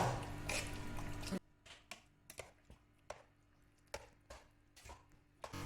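Cooked puzhukku is mashed and mixed by hand in a home kitchen, with a burst of busy rustling noise followed by a steady series of soft, wet squelching thuds, close and fairly quiet.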